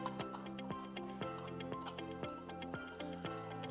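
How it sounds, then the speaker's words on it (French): Water is poured out of a container of sprouting lentils, giving a run of splashing, dripping pulses close by, with no speech. "Je revide l'eau."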